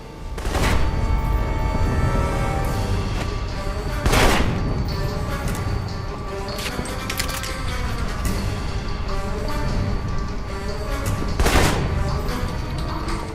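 Turret gunfire in the Alpha Protocol video game rattles on as a dense, continuous barrage. Heavier booming bursts rise out of the steady clatter a few times.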